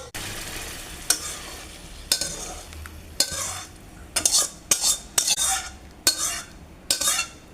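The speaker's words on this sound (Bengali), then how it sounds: "আর একটু নেড়ে চেড়ে জল দিয়ে ফুটিয়ে নামিয়ে নেব।" A spoon stirs tomato and aamsotto chutney in a pan over a clay oven, giving close, repeated scrapes and clinks in an uneven rhythm over a faint bubbling sizzle, with no voices.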